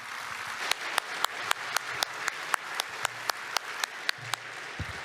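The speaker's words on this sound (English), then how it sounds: "can I get a round of applause for the Premier?" Applause at a natural resources celebration banquet, a steady bed of hand clapping with sharp, regular claps standing out near the front, lasting throughout with no talk over it.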